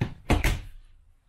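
Pantry door in a 2020 Crossroads Sunset Trail 260SI travel trailer opening, two close, quick wooden thumps and a rattle that fade into a quiet room.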